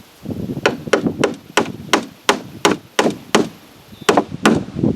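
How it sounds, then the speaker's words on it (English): Hard knocking taps of a hammer seat a Kimpex seat into place on a 2018 Polaris Sportsman 450 ATV, a dozen or so sharp close strikes in an uneven rhythm with no talk. "I agree with them, use a slight hammer."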